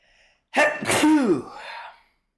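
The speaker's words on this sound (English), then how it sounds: "Had a sneeze coming there." A single loud sneeze up close, with a sharp intake followed by a forceful burst that trails off.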